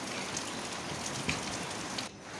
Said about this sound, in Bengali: দেখতে পাচ্ছ গাইস, প্রচণ্ড বৃষ্টি হচ্ছে